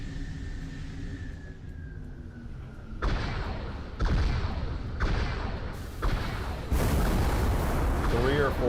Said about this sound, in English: These are just raw projectile shots.